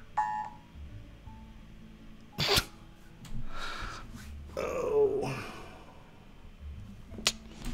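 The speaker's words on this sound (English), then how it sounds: "My phone goes off for the Amber Alerts" An Amber Alert emergency alert going off on a phone, heard as a few sharp, loud tonal bursts with a brief wailing stretch in between, mixed with faint background noise and the sounds of a Roblox game.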